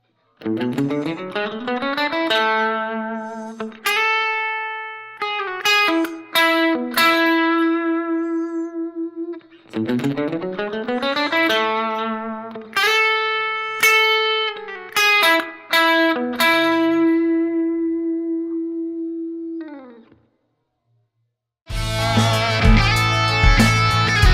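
An electric guitar plays a fast picked lick of rapid single notes in phrases, with a repeat and pause, then a brief distorted burst at the end.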